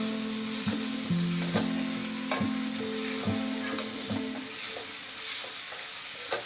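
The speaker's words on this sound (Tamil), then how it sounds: "சிக்கன் அந்த எண்ணெயில் அப்படியே வதக்கிக்கலாங்க." Small chicken pieces sizzle in hot oil with ginger-garlic paste in a pan, a steady close frying hiss broken by a series of sharp scraping stirs, with no talking.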